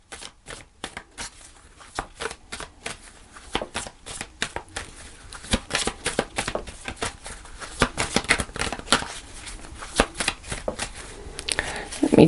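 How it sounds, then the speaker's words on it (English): Tarot cards being shuffled by hand at close range, a long run of quick, crisp riffles and slaps that grow louder and denser toward the end, with no voices over them. "Let me just shuffle."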